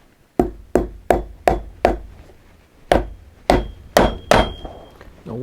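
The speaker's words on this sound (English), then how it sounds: "what I'm going to use is the 10/8 shoe nails for nailing my heel base on" Shoe nails hammered through a boot heel base, double midsole and insole on a Colombian-made stitchdown boot: nine sharp, close hammer strikes in two quick runs, separated by a brief pause, each strike ringing out before the next.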